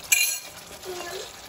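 Shrimp dropped into a hot frying pan for sambal petai udang, a sharp clink at the start, then a soft sizzle and stirring scrape that fade under a quiet kitchen hiss.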